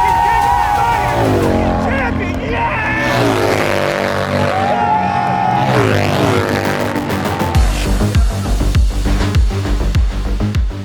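Indian Challenger bagger motorcycles roar past at a race finish, loud high-revving engine whine sweeping by alongside crowd noise, with a commentator talking over it before the engines settle into a low rumble.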